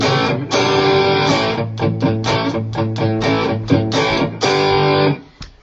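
Electric guitar lick played at a faster tempo with a distorted, effects-laden tone: a rapid run of sustained, saturated notes, loud and close, ending on a held note that cuts off abruptly.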